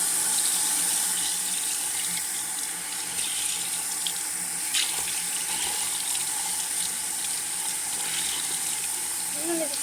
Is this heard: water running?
yes